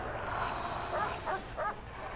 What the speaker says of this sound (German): Welcher Hund dreht denn hier durch?